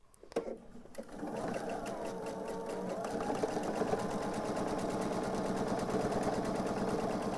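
A sewing machine stitches star quilt blocks, running fast and continuously after a few clicks at the start, with a close, even mechanical rattle.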